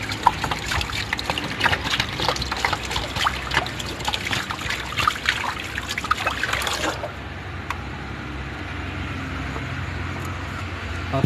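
Hot water pours and trickles steadily into a container to dissolve naphthol batik dye, a dense liquid rush that cuts off abruptly partway through and leaves a quiet room tone.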